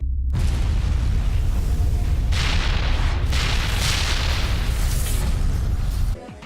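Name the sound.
bomb exploding in the video game Mass Effect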